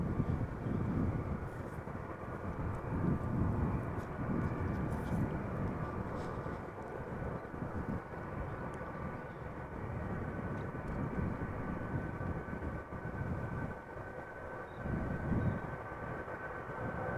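A Cargolux cargo plane at Amsterdam Schiphol produces a steady, distant low engine rumble that persists for the whole stretch, with faint murmuring voices underneath.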